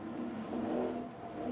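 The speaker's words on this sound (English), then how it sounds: "Are you revving it or no?" A sports car engine revs after a cold start, still in its cold-start mode. A brief, steady engine roar swells slightly and eases back, fairly close.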